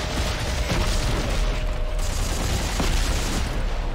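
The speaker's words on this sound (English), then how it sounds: "Shoot them with a rocket!" Rocket fire and explosions in the video game Dead Space 3 form a dense, continuous roar of booming blasts and rumbling combat noise, loud and close throughout, with no speech over it.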